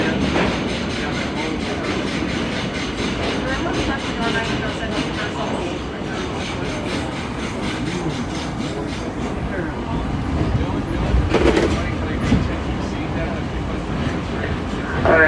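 An R32 car on the New York City subway D line rides along the tracks with a continuous close rumble and rattling clatter that holds steady throughout, swelling slightly near the end.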